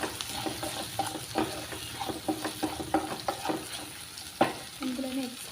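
Taro root frying and being stirred in a pan, with a steady sizzle under repeated scraping strokes of a spoon, close and moderately loud, and a louder clatter near the end.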